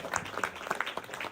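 Theater festival audience applauding in a short burst, a dense patter of many hands at moderate level with a faint voice mixed in.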